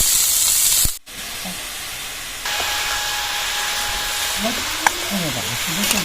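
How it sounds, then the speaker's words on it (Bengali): Shredded cabbage frying and being stirred in a pan for cabbage paratha gives a steady hiss and sizzle, broken by a brief hard knock early on, with faint scraping stirs later and no clear talk. "বাঁধাকপি দিতে হবে আর নাড়তে হবে হয়তো পুড়ে যাবে"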